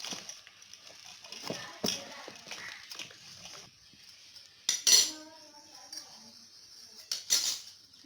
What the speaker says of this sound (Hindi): तो देखिए अब हम खीरा को अच्छी तरह से मिक्स कर लेते हैं।